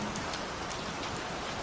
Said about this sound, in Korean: 소나기는 우리가 짐을 다 챙기기 무섭게 덮쳐왔습니다